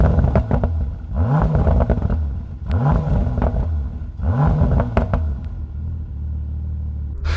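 A 2020 Bentley Continental GTC in sport mode, its rev limiter set at 3000 rpm, blips its engine three times in a row, each a loud deep rumbling rise and fall, before settling into a steady idle burble.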